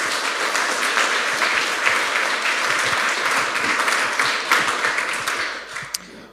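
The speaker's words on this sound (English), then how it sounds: "Please welcome with a hot applause" Sustained audience applause greets a guest speaker at a tech conference talk, dense and steady for several seconds before thinning and fading out at the end.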